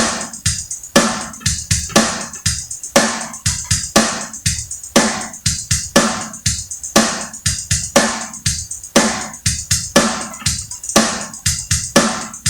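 A drum groove with a loose, open-sounding hi-hat pattern plays steadily and loud, with punchy kick and snare hits repeating in a tight rhythmic cycle and no talking.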